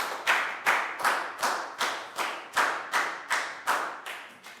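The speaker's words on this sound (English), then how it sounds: "High five and a big round of applause for Prel, guys." Evenly spaced claps about twice per second, loud and close, come from a class applauding in an English lesson, sounding more like one or two people clapping than a full crowd.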